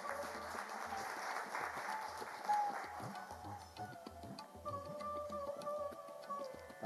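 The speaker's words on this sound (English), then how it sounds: "Can we have a round of applause?" Applause from an audience at a management association event in Ludhiana, a faint, fairly distant patter of clapping with some tonal background sounds joining partway through.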